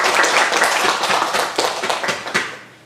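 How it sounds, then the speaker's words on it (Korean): An audience at a Haydn string quartet concert applauds, a dense burst of hand clapping that holds steady and then thins and tapers off, with no voices over it. "박수 한번."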